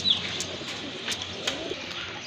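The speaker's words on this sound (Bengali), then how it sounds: "মাশাআল্লাহ আরেক জোড়া কবুতর, কালারফুল কবুতর," Pigeons on a farm that breeds colourful local and foreign pigeons coo softly in a low murmur, with a few brief chirps rising over steady background hiss.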